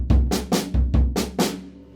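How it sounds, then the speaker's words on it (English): Drum pattern on a kit played in a left-foot clave exercise: two low bass drum thumps followed by two bright hand strokes, repeating in a steady loop, close and fairly loud with no talking. "2 on the bass drum, 2 on the hands."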